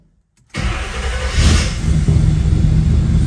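A 1956 Chevy truck fitted with a 700R4 transmission cranks and fires after a brief silence, then settles into a loud, close, steady engine rumble that swells slightly as it runs.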